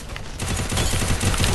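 Dense gunfire from the mobile battle royale game Free Fire, rapid overlapping shots forming a loud, continuous fusillade that swells after the first moments and stays heavy throughout.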